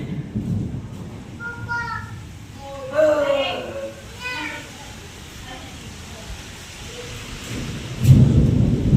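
Rumbling thunder and steady rain from a strong storm, with a burst of thunder near the end; a voice, probably a child's, sounds over it.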